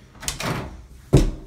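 A door is opened with close, loud movement: rustling and sliding scrapes, then a solid thud or knock near the end, in a quiet room.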